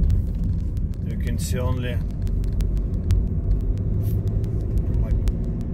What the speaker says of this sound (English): lots of drivers crossing the Sydney Harbour Bridge